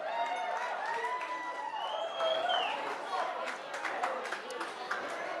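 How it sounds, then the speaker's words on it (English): Wedding reception guests give a speaker a round of applause, steady clapping mixed with cheers and whoops, moderately loud and continuous throughout, with voices calling out over it. "Let's give him a big round of applause."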